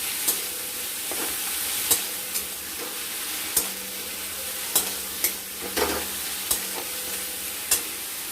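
Ginger paste and garlic paste sautéing in a pan, a constant soft sizzle close by, punctuated by about ten sharp scraping taps of a spatula stirring at irregular intervals.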